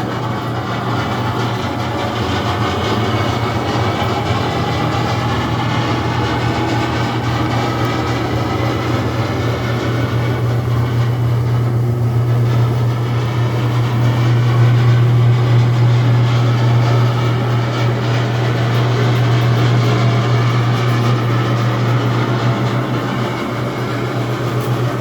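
A Wheelovator wheelchair lift at a Hilton hotel in College Station, Texas, rises with a steady, loud motor hum and drone that holds constant throughout, with no voices.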